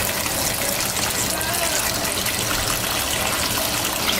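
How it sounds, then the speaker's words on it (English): Water gushing steadily from a tap into a cooking pot, a continuous broadband rush that stays loud and even throughout, with a voice talking over it. "Okay, we're gonna fill that up with some water."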